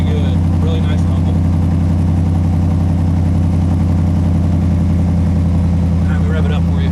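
A Ram pickup with a Flowmaster Flow FX muffler idles with a loud, steady, deep exhaust rumble and an even throb throughout.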